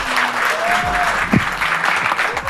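An audience at a comedy writing workshop claps loudly and steadily for Kunal Kamra, with dense, close applause and faint vocal sounds mixed in.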